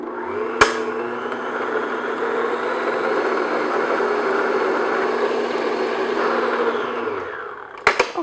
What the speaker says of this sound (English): And now I'm going to beat this on medium-high speed, a couple minutes.